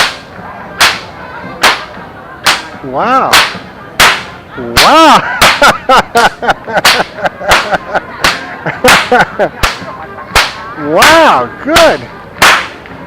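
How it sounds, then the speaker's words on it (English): A leather whip cracks during a live demonstration: a long string of sharp, loud, close snaps at an uneven pace, with people exclaiming and talking between the cracks. "The man's going to demonstrate the whip. Be ready for a loud sound."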